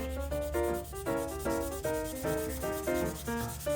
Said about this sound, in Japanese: 磨いていくと表面の錆が大方落ちていくのがわかると思います